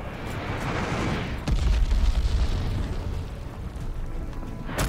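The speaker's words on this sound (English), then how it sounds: "Enemy's got a glide bomb incoming." A glide bomb explodes in the video game Call of Duty Vanguard, a heavy booming blast that swells in at about a second and a half and rumbles on under continuous battlefield noise.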